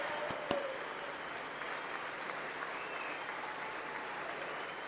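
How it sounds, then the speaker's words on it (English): Steady, dense applause from a large audience at a State of the Union address, heard at a distance and sustained without letup, with faint murmurs beneath it. "I'll clap for that."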